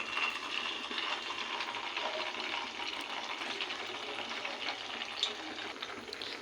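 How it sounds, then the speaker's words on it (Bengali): Chhena (paneer) balls frying together in hot oil, a steady close sizzle and crackle that holds throughout, with no voices. "এবার সবকটা একসাথে দিয়ে দিয়েছি, এগুলোকে ভেজে নেব।"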